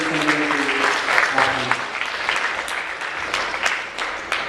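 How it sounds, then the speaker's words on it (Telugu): Church congregation clapping loudly to welcome new members, a dense, lively burst of applause that runs throughout, with a few voices briefly audible at the start. "అందరూ బిగ్గరగా చప్పట్లు కొట్టి వారిని"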